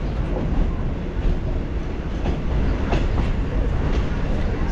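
Train running on rails toward Yelahanka junction from Chikballapur, a steady loud rumble of the carriage with faint clickety-clack rhythm throughout, no talk.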